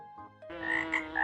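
Frog croaking in a short, close, loud burst of resonant ribbit-like calls, about a second long and heard alone.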